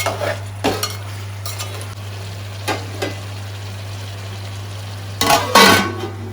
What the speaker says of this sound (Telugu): చికెన్ ఆయిల్లో బాగా ఫ్రై అవ్వనివ్వండి.